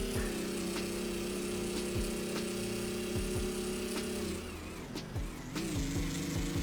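A custom-built super car with added fuel tanks in GearBlocks drones with a steady engine hum that dips as it shifts up a gear, then climbs again, with thumps from the road.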